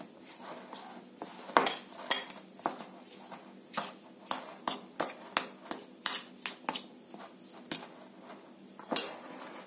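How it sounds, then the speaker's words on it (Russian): Cottage cheese is mashed in a bowl with a pinch of salt and a spoonful of sugar. A utensil clinks and scrapes against the dish about twenty times in an uneven rhythm, quiet and close, with no voices. "Все это разминаем."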